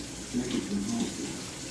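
Hands rinsing flour off under a running kitchen tap, a steady soft stream of water splashing close by for a couple of seconds, with slight swells as the hands move through it.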